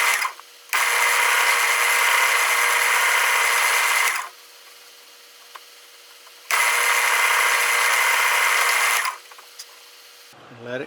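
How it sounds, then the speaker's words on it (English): A power drill bores into a segmented pen blank of mesquite and maple in two long, steady bursts of high whine, each about three and a half seconds, separated by a quiet pause; the drilling is close and loud. "Takes patience to drill segmented blanks."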